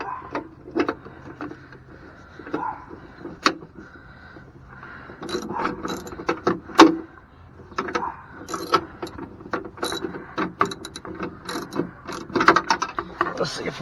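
A ratchet tightens bolts while step rails are fitted to a 2019 Chevrolet Silverado, with a run of close, irregular clicks, metallic clanks and handling noises through the clip.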